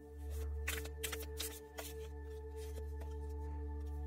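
Tarot cards shuffled by hand during a pick-a-card reading: a run of quick, crisp riffling bursts, close and fairly loud over a steady low hum, with no talking.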